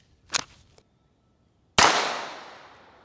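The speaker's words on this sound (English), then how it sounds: "we're gonna go ahead and start with the .22 long rifle" Single sharp report from an Iver Johnson .22 pistol firing .22 Long Rifle rounds, loud and close with a quick decaying ring, preceded by a fainter double click of handling.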